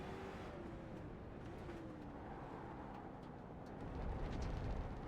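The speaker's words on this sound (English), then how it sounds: "You can hear the slides as the cars go around these corners" Street stock race cars sliding around the corners of a road course in a racing video game, a faint steady engine drone with tire scrubbing that swells louder near the end.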